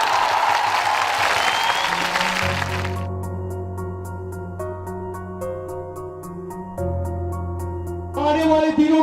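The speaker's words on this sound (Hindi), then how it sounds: "उनके लिए तालियां।" A crowd bursts into applause at a padyatra rally, a broad clatter lasting a couple of seconds. Sustained music tones then take over and run to the end.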